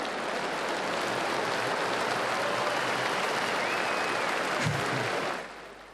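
Loud, sustained applause from a crowd of some 15,000 delegates filling a sports palace at a pre-election gathering, steady dense clapping for over five seconds before tapering off at the end.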